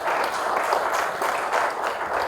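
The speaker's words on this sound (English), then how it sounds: "Another resounding round of applause for him, please." Audience at a roundtable on blue economy security applauds after a speech, with steady, dense clapping from a crowd running throughout.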